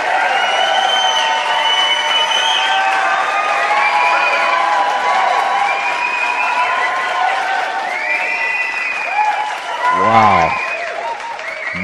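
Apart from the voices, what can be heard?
enthusiastic crowd cheering and applauding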